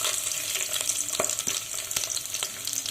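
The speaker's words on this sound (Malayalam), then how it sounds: "ഇതിലേക്ക് ഞാൻ ഇഞ്ചിയും വെളുത്തുള്ളിയും കൂടിയാണ് ആദ്യം ഒരുമിച്ചിടാൻ പോകുന്നത്." Ginger and garlic frying in hot coconut oil give a steady, close sizzle with a few light stirring scrapes, and no one speaks.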